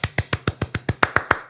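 A single person clapping as applause, ten sharp, evenly spaced claps in a quick steady rhythm, close and clear with no other sounds around them.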